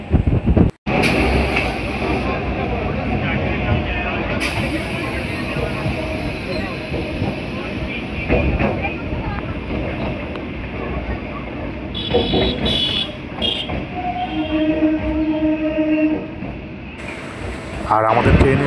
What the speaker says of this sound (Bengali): আর আমাদের ট্রেন এসে পৌঁছালো ক্যানিং স্টেশন।